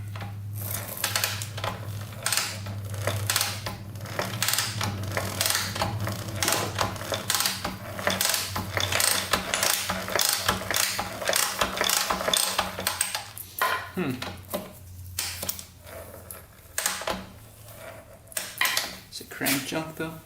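A Honda XR250 dirt bike engine turned over by hand gives a steady train of rhythmic mechanical clicks and clatter, close up, while a person talks over it.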